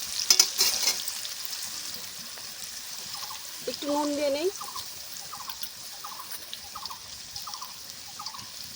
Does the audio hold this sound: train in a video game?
no